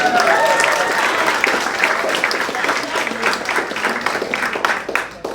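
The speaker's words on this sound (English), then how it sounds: "Let's give her a round of applause." Warm applause from a crowd at a celebration for a new Georgetown graduate, a full wave of clapping that starts strong and slowly thins toward the end, with faint voices mixed in.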